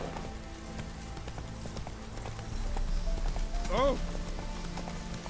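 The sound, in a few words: horse Roach galloping in video game The Witcher 3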